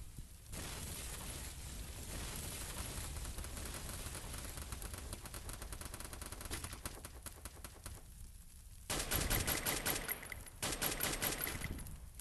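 Automatic weapon fire in the Free Fire battle royale game, sustained rapid bursts running almost continuously, louder and denser near the end with brief gaps, no talking.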